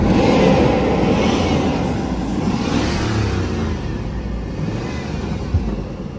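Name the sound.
Hummer limo engine revving with throttle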